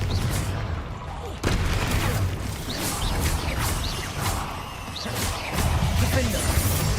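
Spell blasts from Confringo and similar combat magic in the video game Hogwarts Legacy, a dense run of booming explosive bursts and crashes over rumbling action, with a player calling out spell names throughout.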